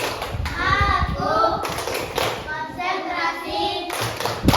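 A classroom of children plays a concentration clapping game, with bursts of rhythmic hand claps and taps under children's voices and chanting.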